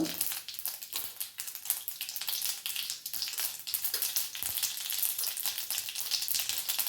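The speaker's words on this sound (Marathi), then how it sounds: "आता तेल तापलं, मी इथे मोहरी घातली." Mustard seeds and asafoetida sizzle in hot oil, a bright continuous crackle and spatter with popping bursts, close and steady with no talking.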